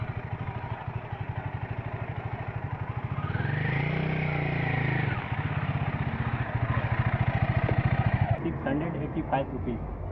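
A Royal Enfield Guerrilla 450 motorcycle cruises along the Ganga Expressway, its engine thrumming in a steady pulsing rhythm with wind rush, the tone rising and shifting midway as speed changes, close and loud.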